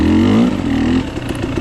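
A KTM 300 XC-W dirt bike engine revs hard on the throttle during a muddy hare scramble, loud and close, pitch climbing briefly before settling into a rough steady drone.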